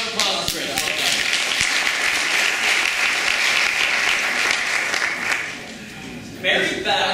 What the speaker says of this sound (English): Round of applause for Chris.